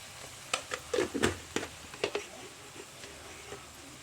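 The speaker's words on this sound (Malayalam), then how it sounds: "നമുക്കിത് ഇളക്കി നന്നായി യോജിപ്പിക്കാം" Spices with chilli and coriander powder sizzle in a pan with okra and potato, stirred in a series of soft scraping clicks and quiet frying hiss, close and fairly faint, with no talking.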